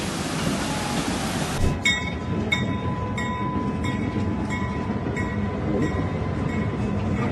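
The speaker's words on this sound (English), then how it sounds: "Indian trains don't stop for anything, not even flooding." Indian train rolls steadily along flooded tracks, a continuous rumble with rhythmic wheel clicks repeating at a moderate, even pace, fairly close and without voices.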